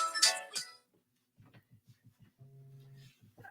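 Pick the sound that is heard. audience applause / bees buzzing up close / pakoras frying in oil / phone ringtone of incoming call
phone ringtone of incoming call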